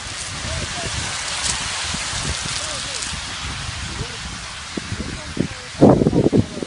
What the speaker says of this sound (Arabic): هذا برد